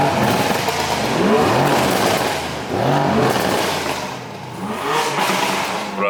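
A drift car engine revs hard and repeatedly, rising and falling in loud, close surges with a raspy exhaust note.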